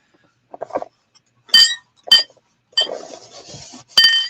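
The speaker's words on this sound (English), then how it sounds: "You can hear my uranium glass in there." Vintage uranium glass pieces clinking against each other, several sharp, bright clinks close by with short pauses between them and no talking.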